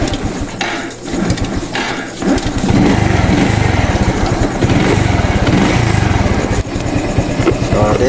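A Skygo motorcycle engine, previously stalled, is started again and settles into a loud, steady idle running close by for most of the clip.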